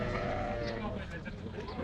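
Sheep bleating at a livestock market, a few close wavering bleats over busy crowd chatter and voices.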